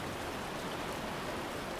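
Soft, even rain hisses steadily and evenly, with no voices or other sounds.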